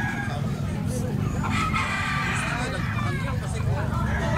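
A lambuhon rooster, a 17-month-old gamefowl, crows once or twice amid a farmyard hubbub, while people talk nearby over the bird and low background noise.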